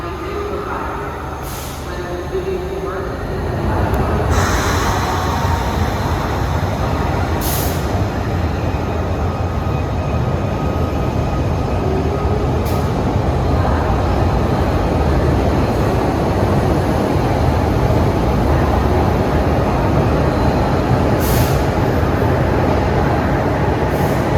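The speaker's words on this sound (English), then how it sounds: "a Fern Rock train on the Broad Street is getting ready to pull out" A Philadelphia Broad Street Line subway train to Fern Rock rumbles loudly as it pulls away, building to a steady roar with hissing brake bursts and faint voices nearby.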